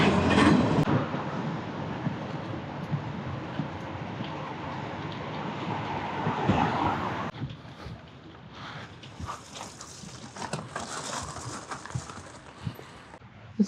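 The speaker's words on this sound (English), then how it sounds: "Some of these trains are super long." A very long train passing nearby, a sustained rumble with clattering wheels that continues throughout, shifting to a lighter rattling clickety sound midway as the cars roll by.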